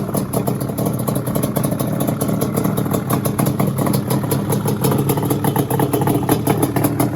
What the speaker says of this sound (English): so let's start it up. Sounds good too. Idle's good too.